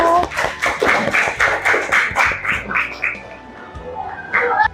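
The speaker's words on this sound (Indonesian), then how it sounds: "Kasih aplaus untuk kelompok 1" A group of students in a classroom applauds, with rapid, steady clapping from many hands for about three seconds that fades out, then a voice speaks briefly at the end.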